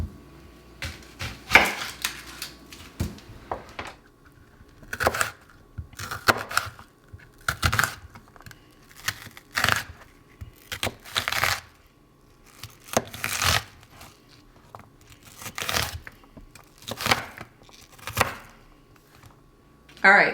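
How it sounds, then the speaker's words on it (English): Home-grown garden onion being chopped with a knife on a board for a traditional Scottish soup, giving repeated sharp cutting strokes in uneven bursts, with a person talking over and between them. "so I've cut up one onion"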